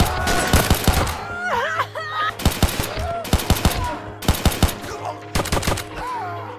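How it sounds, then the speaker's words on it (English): Gunfire in Rimworld as a tribal raider is shot, several rapid bursts of loud, sharp shots in clusters, with whooshing game effects between them. "One tribal was left as we shoot a hole through him."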